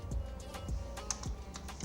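Keys are tapped on a computer keyboard in a slow, uneven rhythm, each click distinct and close, with faint room hum underneath.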